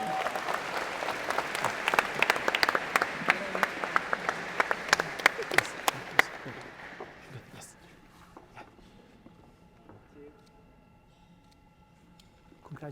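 A university convocation crowd applauds an engineering faculty member with bright, dense clapping and sharp individual claps for about six seconds, then fades to quiet room noise with faint voices.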